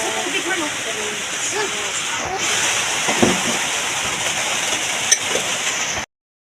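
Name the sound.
heavy rain falling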